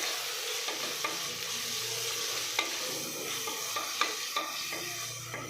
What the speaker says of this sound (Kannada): ಇದನ್ನು ಹಸಿ ವಾಸನೆ ಹೋಗೋವರೆಗೂ ಚೆನ್ನಾಗಿ ಫ್ರೈ ಮಾಡ್ಕೋಬೇಕು